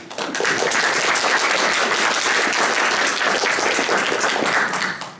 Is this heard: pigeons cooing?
no